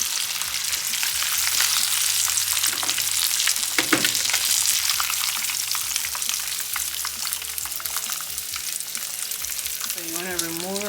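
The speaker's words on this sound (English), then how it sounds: "We're done with frying the fish." Fish frying in hot oil for Senegalese thieboudienne, a loud, steady sizzle and crackle running throughout with occasional stirring clatter, and a brief tonal whine near the end.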